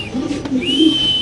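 A velvet shield pigeon gives a short, low coo at close range, soft and rounded, with brief faint chirps behind it.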